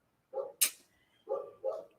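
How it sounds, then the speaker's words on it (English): A dog barks at a window: four sharp barks in two pairs, close and loud, with short silent gaps between them. "And then we have Harley barking at the window"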